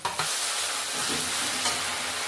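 Steady frying sizzle of ginger garlic paste in a pan with a bit of stirring, fairly close and continuous, no voices.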